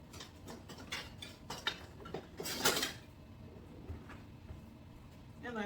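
Kitchen utensils clatter and clink near at hand while a whisk is fetched for a crockpot clam chowder, a scattering of sharp metallic taps with one louder rattle in the middle.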